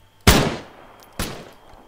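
Two sharp gunshots in the video game Arma 3, about a second apart, each with a quick decaying tail; punchy and close, no talking.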